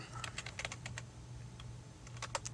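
Keys clatter on a computer keyboard in quick, uneven bursts of close, crisp taps, pausing briefly in the middle before a final flurry, over a faint low hum with no speech.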